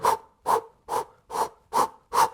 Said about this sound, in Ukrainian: Ми маємо зробити глибокий вдох, видох максимальний, і потім видихати далі приривчасто.